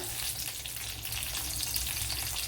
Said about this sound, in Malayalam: ഇവിടെ ഒരു ചട്ടി വെച്ച് കൊടുത്തിട്ടുണ്ട് അതിലേക്ക് ഒരു ആറേഴ് വെളുത്തുള്ളി എടുത്തിട്ടുണ്ട് അത് ഇട്ട് കൊടുക്കാം അതുപോലെ പച്ചമുളക് ഇട്ട് കൊടുക്കാം